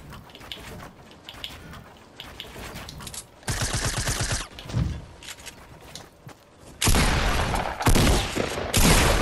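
Suppressed SMG fire in the Fortnite battle royale video game comes in rapid bursts, several dense volleys separated by short pauses, loud and close with a crackling, muffled rattle.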